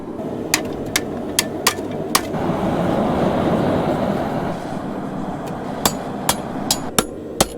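A hammer forging a steel spring on an anvil in a home shop, sharp ringing metallic strikes spaced irregularly, a handful early and more near the end, with a rumbling noisy stretch in between.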